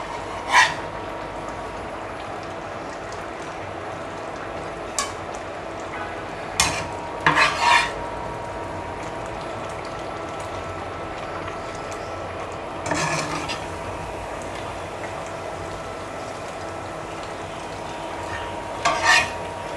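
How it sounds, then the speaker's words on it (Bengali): Eggplant pieces go into a pan with potatoes and tomato and are stirred as they cook, giving a soft, steady sizzle broken by a few sharp scrapes and clinks of a spoon against the pan. "এ পর্যায়ে আমি বেগুনগুলো দিয়ে দিচ্ছি"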